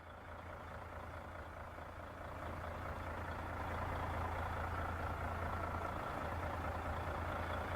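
A Mercedes-Benz Actros truck engine drones in SnowRunner, a steady low diesel rumble that swells slightly louder partway through and then holds, quiet and continuous with no talking.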